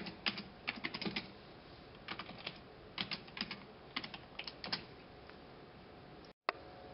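Typing on a computer keyboard, clusters of quick soft key clicks in irregular bursts with short pauses, close and quiet, no voices.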